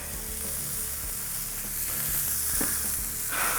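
A smash burger patty seasoned with smoked cracked pepper sizzles loudly and steadily on a hot cooking surface, a close, continuous dense frying hiss with no talking.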